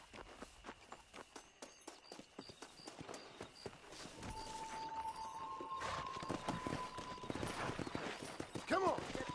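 Horse hooves gallop in Red Dead Redemption 2 as a rider sets off, a steady clip-clop that speeds into a run under spoken game dialogue, with tack clinking and a brief whinny near the end.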